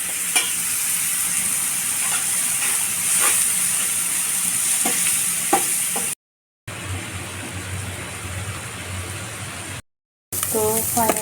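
Eggs hit spiced masala frying in oil, giving a steady loud sizzle with clanks of stirring, broken by two short silent gaps; a voice is briefly heard near the end.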